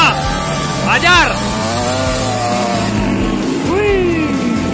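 An old Yamaha DT Rambo two-stroke motorcycle revs and buzzes up close, the engine note climbing sharply twice between steady stretches of rasping idle and running, heard on a steep hill climb at Gunung Merah.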